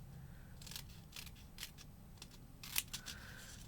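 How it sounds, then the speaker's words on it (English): Scissors cutting through paper and foam while assembling a handmade greeting card, a series of short, quiet snips spread over a few seconds. "You take your scissors one more time. And you just cut to where you can't"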